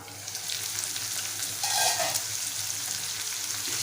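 Brinjal with crushed garlic cloves sautéing in a pan for a Malvani-style kharvang dish, giving a steady close sizzle with stirring scrapes throughout, no voices.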